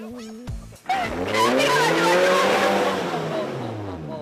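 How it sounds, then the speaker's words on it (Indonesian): An off-road car's tires spin and slip in slick mud, a loud sustained whine of engine and wheelspin rising then easing over several seconds, close by, after a brief tonal sound at the start. "Beberapa kali ban mobil yang saya tumpangi selip karena medan yang dilalui sangat licin dan berlumpur."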